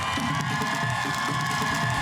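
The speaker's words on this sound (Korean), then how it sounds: "닉스한테 예. 박수 한 번 주세요. 시원하게" Outdoor crowd cheering and clapping at a beatbox show by the Han River, a dense, steady roar of many voices and hands held at an even level for the whole two seconds with no pauses.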